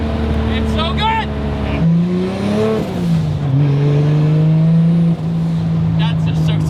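A 500-horsepower 2JZ drift car holds a loud, sustained engine note whose pitch dips and climbs as it revs through a slide, with tire noise underneath and voices over it early on.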